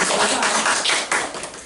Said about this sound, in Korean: 우리 박수로 환영해 드리도록 하겠습니다